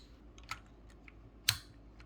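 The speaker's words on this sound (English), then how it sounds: "So I'm going to use my little trusty keycap remover that this came with." A keycap puller pries a keycap off a mechanical keyboard, giving two faint, quick plastic clicks, the second sharper, in a quiet room.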